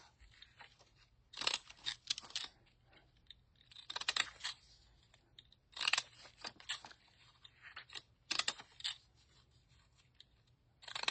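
Scissors snipping through vintage paper ephemera in quiet bursts of crisp, close cuts, several clusters of short rhythmic snips separated by pauses.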